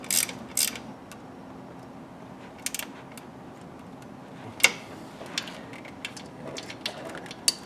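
A 13mm ratchet wrench clicks on car alternator wiring during a serpentine belt conversion, giving faint scattered ratcheting ticks and a few sharper clicks over quiet garage background.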